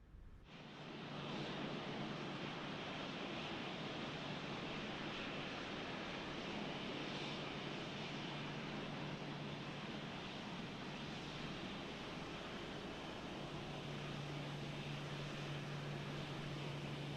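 A Malaysia Airlines Boeing 737-800 taxiing produces a continuous, even whooshing roar with a low steady hum underneath, rising in after a brief quiet start and holding for a long stretch without speech.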